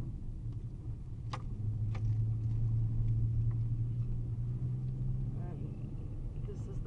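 A car labours up a steep hill with a deep, droning engine rumble that swells into a sustained strain as the wheels spin, with a few sharp knocks and rattles over the top.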